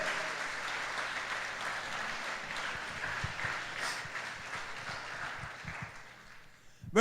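Church congregation applauding steadily for about seven seconds, a dense wash of clapping with a few louder claps near the end.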